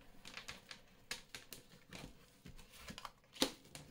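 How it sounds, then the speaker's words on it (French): Tarot cards are laid out one after another. Soft, faint taps and light slaps of card on surface come in an uneven rhythm, with one slightly sharper snap near the end and no talking. "Je vais remettre des cartes"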